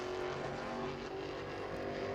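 A late model race car runs a qualifying lap at New Smyrna, its engine droning steadily and loudly throughout with no break or pause in the tone.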